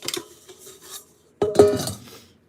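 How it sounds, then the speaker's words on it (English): Metal baking pans are lifted and set down close by in the kitchen: a light clatter, a brief pause, then a louder clanking scrape that rings briefly. "we are going to get some pans."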